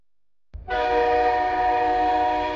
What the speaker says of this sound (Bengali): দূর থেকে এলো ট্রেন ইঞ্জিনের হর্নের শব্দ